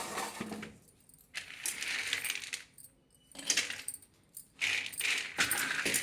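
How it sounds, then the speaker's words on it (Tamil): Roasted cashew nuts dropped into a grinder jar, a few bursts of hard clinking and rattling pieces landing in separate handfuls, with short quiet gaps between them. "அடுத்தது நம்ம வறுத்து வச்ச கேஷ்யூ நட் போட்டுக்கலாம்"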